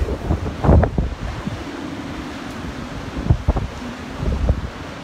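Stormy sea waves surge and roll in a continuous rough wash, with wind buffeting the microphone and a few heavier crashing bursts standing out; no voices.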